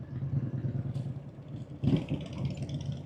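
A Chicano-style cruiser motorcycle rides at an easy pace, its engine giving a steady low rumble with a brief rise in level partway through, heard alone without speech.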